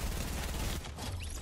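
A grenade goes off in the Fortnite battle royale game: a loud, close, rough burst of blast noise that fills the whole moment, then settles into a slightly quieter crackling tail.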